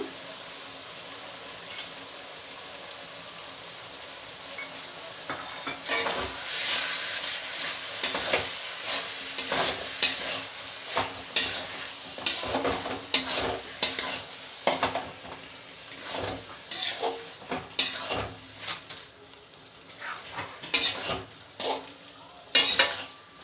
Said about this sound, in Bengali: আমার মশলাগুলো কষা হয়ে গেছে, এবার আমি টক দইটা দিয়ে দেব।